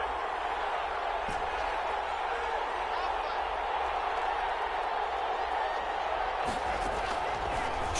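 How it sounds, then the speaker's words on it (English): Steady stadium crowd roar from a PS4 football video game, a Patriots drive on an early third down, a dense continuous wash with a couple of brief sharp accents, heard alone without speech. "Crowd getting in it a bit already."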